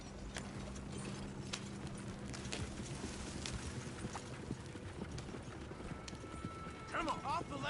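Horse hooves clip-clop at a steady galloping rhythm in an open-world Western video game, joined by a brief whinny and wheel or tack rattles. Voices talk quietly underneath.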